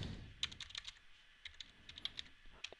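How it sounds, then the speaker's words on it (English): Soft, close keystrokes tapped out on a computer keyboard in uneven short runs, quiet and clear with no talk over them. "So I'm going to type this into R now."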